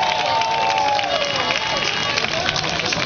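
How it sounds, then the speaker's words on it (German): Spectators at the Ironman Lanzarote 2008 swim start clap and cheer for the athletes, a dense and loud wash of applause and crowd noise with voices mixed in throughout. "Applaus für die Athleten, die hier beim Ironman 2008 starten"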